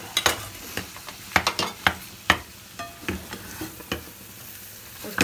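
Potatoes are being mixed into an aloo cutlet mixture, with a spoon scraping and thumping against the bowl in irregular, close strokes over a faint sizzle in the background.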